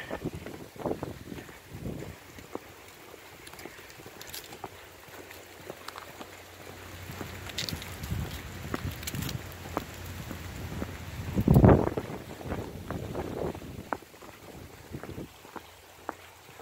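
Wind gusts buffet the microphone outdoors on the grounds of the abandoned Laconia State School, a steady low rumbling roar with a sharper, louder gust near the end and no talking.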